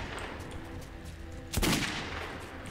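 A pistol fires in the shooter game Metro 2033, a single sharp, loud shot cracking out of a low background hum and trailing off into a short echo, with no talking.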